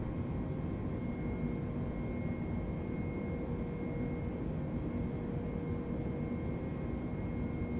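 Steady aircraft engine drone in Microsoft Flight Simulator 2020 on a flight from Manila to Hong Kong, with a constant low rumble and faint tonal whine that holds evenly throughout and has no speech.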